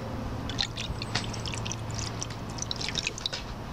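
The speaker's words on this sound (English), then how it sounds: "We're gonna add our borax and water to the glue" A borax and water solution trickles and drips into glue, a soft, steady liquid pour heard up close and fairly faint against low background hiss.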